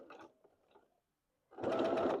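A sewing machine stitches fabric for an apron, a short burst of fast, even mechanical whirring after a brief pause and a few faint taps, close and fairly loud.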